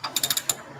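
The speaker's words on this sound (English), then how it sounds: "It's just the fan hitting the ratchet." The engine fan of a 1949 Studebaker Champion catches against a ratchet as the engine is turned over by hand, giving a quick run of about six sharp, close metallic clicks in under a second.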